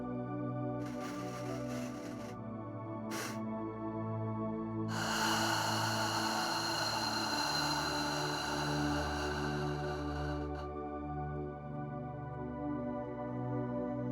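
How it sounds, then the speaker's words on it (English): Two quick, sharp inhales through the nose, a short pause, then one long, steady exhale, close and alone with no talking. "we're going to take one more sharp breath to fill the lungs a little bit fuller"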